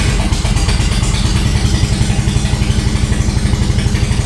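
A Nissan 240SX engine runs with a damaged, crudely welded exhaust, giving a loud, close, steady rapid put-put rumble with a rough rattling pulse and no talk.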